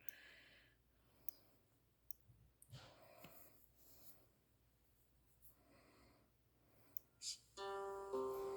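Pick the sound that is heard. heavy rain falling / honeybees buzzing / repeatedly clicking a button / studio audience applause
repeatedly clicking a button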